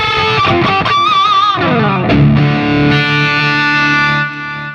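A heavily distorted electric guitar through the Brainworx RockRack amp plugin, set for heavy tones, plays a quick shredded run, then a sustained crunchy chord rings out and fades. The tone is loud and saturated, with no voices.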